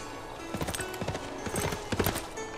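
Barbarian horse archer unit's hooves in Civilization VI, a rhythmic run of clip-clop hoofbeats trotting over steady game ambience, fairly close and moderately loud, with no talking.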